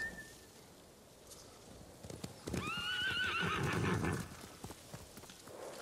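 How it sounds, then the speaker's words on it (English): In the video game Ghost of Tsushima, a samurai horse comes running with clip-clopping hooves and lets out a loud whinny mid-clip, then the hoofbeats slow and fade. "Call your horse."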